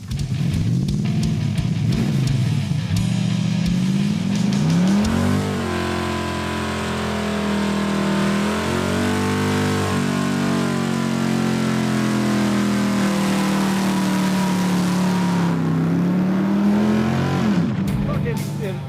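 A Dodge Coronet's engine revs repeatedly with the pitch climbing and falling over a sustained, loud run, the car idling low at about 700 rpm and pulling hard as revs build; people speak briefly between revs.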